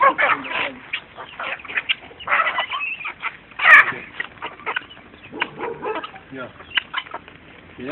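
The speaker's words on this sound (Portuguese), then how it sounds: "Olha lá, faz carinho na galinha." Busy clucking from several chickens, close and fairly loud, with short bursts throughout and a sharper squawk midway.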